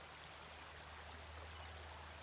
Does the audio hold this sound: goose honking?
no